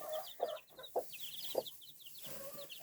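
A hen gives soft, low clucks every half second or so, with high peeping from her three-day-old chicks scattered over the top.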